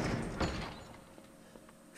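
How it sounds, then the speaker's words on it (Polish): A heavy titanium door slams shut in the horror game Resident Evil 7, a loud thudding impact at the start that fades into a low rumbling tail. "Nie rozwalisz tych tytanowych drzwi,"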